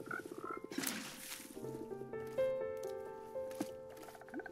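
Frogs croak in Minecraft 1.19 amid a busy game soundscape of layered tonal blips and soft patter, several short croaks recurring over a few seconds at moderate loudness.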